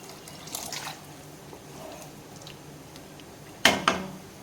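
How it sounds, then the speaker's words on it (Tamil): Water poured into idli sambar cooking in a pot, a faint trickle early on followed by two short, sharp splashes near the end, with no talking. "சாம்பாருக்கு தேவையான தண்ணி ஊற்றிக்கலாம்."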